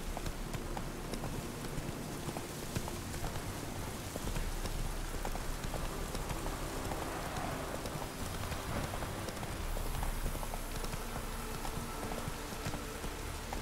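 A horse gallops in The Witcher 3 with steady clip-clop hoofbeats that run throughout, set against constant rain pattering on the ground and no voices.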